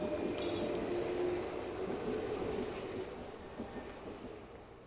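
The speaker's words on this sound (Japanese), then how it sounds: "奥の方に貨物列車が。" A freight train rolls past in the background of the Yo-kai Watch 2 video game, a steady, distant rumble with faint metallic clinks that slowly fades.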